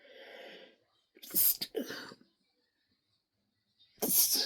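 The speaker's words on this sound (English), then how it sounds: "Something on this making me sneeze." Two loud, sharp sneezes burst out close by, separated by a pause of silence, with a brief breathy sound at the start.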